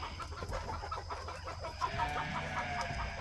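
Several hens cluck steadily nearby, their short repeated calls overlapping against a constant low background hum.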